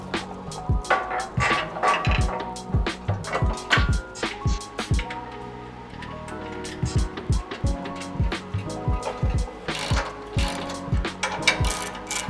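Ratchet wrench tightening bolts on front skid plates of a Toyota Tacoma: rapid repeated clicking bursts in short runs, close and loud, with metallic clanks between strokes and no talk.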